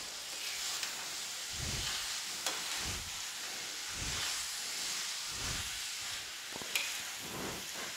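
Carrots and peas stir-fried in a pan for a spiced sabzi give a close, constant sizzling hiss, broken by a steady rhythm of low stirring scrapes about once a second.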